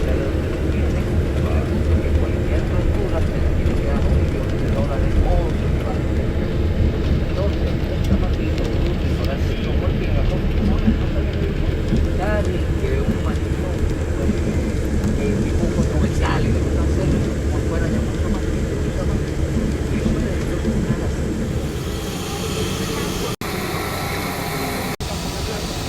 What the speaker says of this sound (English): we have just landed at Douglas Charles International Airport, Dominica